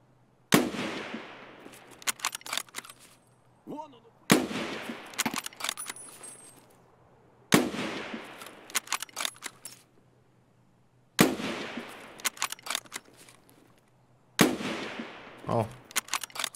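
Pistol shots ring out in a shooter video game, about five sharp cracks spaced a few seconds apart, each followed by short clattering and rattling tails, with a low steady hum underneath.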